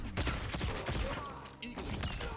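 Rapid bursts of Peacemaker's gunfire in a fighting video game crack in quick succession, dense and loud, with clattering mechanical effects layered underneath.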